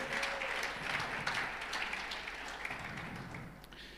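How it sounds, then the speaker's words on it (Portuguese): Church congregation applauding at a worship service, a fairly soft, continuous patter of many hands clapping that gradually fades over a few seconds, with no talk over it. "Você pode dar um aplauso ao Senhor forte?"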